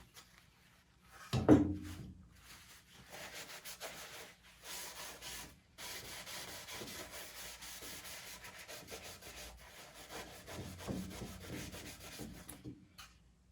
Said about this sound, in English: Just want to make sure I get the corners really well, get rid of the excess glue.